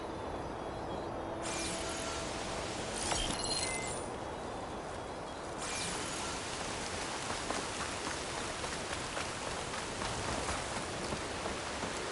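Steady rain pours throughout the Horizon Forbidden West game world on PS5, a dense, even hiss of drops with a few brief louder splashes, with no talking.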